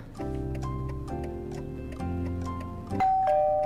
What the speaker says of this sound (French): ta sonnette va sonner mon pote